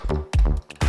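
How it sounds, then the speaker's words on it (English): Choppy scratched music in quick bursts from a Pioneer XDJ-1000 in slip mode, a harmonic track stuttering back and forth between short gaps, loud and close. "The slip button allows me to do something like this, and the track continues to play"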